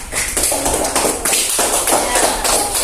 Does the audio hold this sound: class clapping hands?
yes